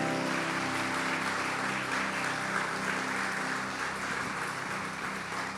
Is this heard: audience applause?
yes